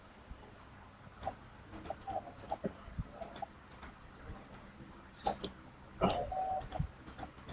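The Shift key and other keys on a computer keyboard are pressed during digital sculpting work, giving faint, scattered clicks and taps at an irregular pace, some in quick little clusters, with no voices.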